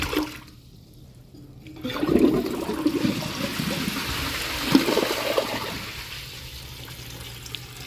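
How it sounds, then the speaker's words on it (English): A Glacier Bay toilet flushes after a short quiet moment, water rushing loudly into the bowl and then swirling and draining away over several seconds, close by. "You call that a flush?"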